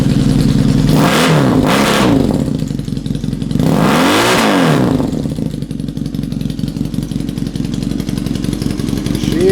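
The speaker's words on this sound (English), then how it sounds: "Now that was a cold start." A Honda TRX450R engine fitted in a CB450 Nighthawk runs loudly and close after a cold start, with two quick revving bursts early, a longer rev swell midway, then a steady clattering idle.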